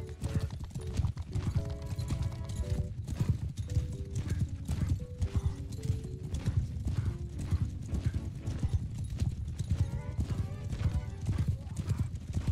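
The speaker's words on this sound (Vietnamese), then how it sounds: "vệ binh phi ngựa nhanh thế." Horses galloping in the video game Mount & Blade II, a fast continuous clip-clop of hooves running under a melodic music score, with someone speaking Vietnamese at moments over the game sound.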